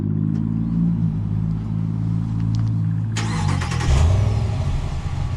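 A 2022 Ram 1500 Classic V8 pickup truck idling after a remote start: a steady, low engine hum holds, then the engine rises in a brief rev before settling back to a throaty idle, close and fairly loud, with no talk.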